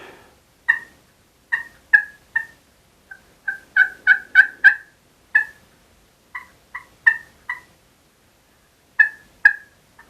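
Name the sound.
turkey hen call imitated to attract a gobbler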